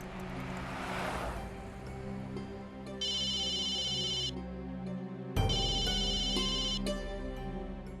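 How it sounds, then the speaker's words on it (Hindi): A telephone rings twice at night in an indoor drama scene, each ring a bright, steady electronic tone lasting over a second, with soft background music underneath. "मैं तरुण को फोन करता हूँ"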